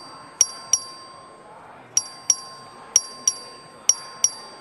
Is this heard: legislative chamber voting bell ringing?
yes